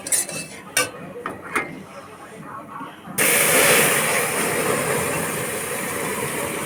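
Milk poured into a pan of frying semolina for halwa sets off a sudden loud, steady hiss and sizzle after a few quieter clinks of utensils and cooking sounds.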